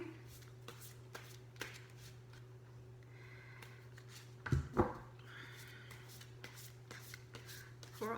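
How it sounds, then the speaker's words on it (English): A deck of tarot animal spirit cards is shuffled by hand, giving soft riffling and flicking taps with a brief louder burst of card slaps, close and quiet over a steady low hum. "I'm going to shuffle these cards to receive guidance for Sagittarius"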